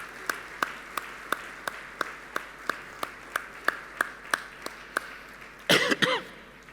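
At a conference welcome address, an audience gives slow rhythmic clapping, evenly spaced sharp claps at about three per second, then a short, denser flurry near the end.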